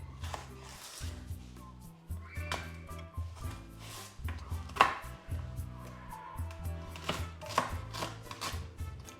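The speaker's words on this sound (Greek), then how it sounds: "Με το ίδιο τρόπο κόβουμε σέλερι." A knife chops celery on a cutting board for sauce, a steady run of crisp, close, fairly quiet knocks at an even quick rhythm with short pauses, no talking.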